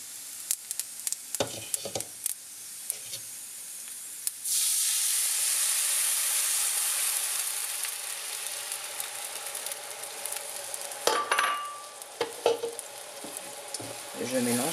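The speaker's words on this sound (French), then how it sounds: "Je remue tout ça. Et je vais y ajouter le bouillon." Pumpkin stirred in a hot pan alongside quinoa before broth goes in, a steady close sizzle and hiss with scattered spoon scrapes and clatters at the start and again near the end.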